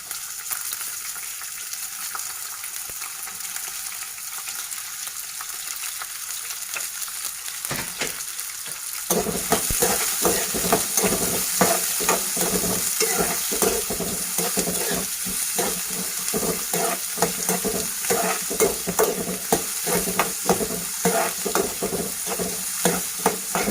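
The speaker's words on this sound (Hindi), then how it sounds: "ये गाजर और गोभी लाइट फ्राई हो चुकी है।" Carrots and cabbage fry in hot oil in a kadai for veg fried rice, a quiet simmer at first, then a loud, dense crackling sizzle broken by repeated rhythmic stirring clatters.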